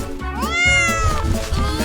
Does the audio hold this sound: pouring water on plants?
no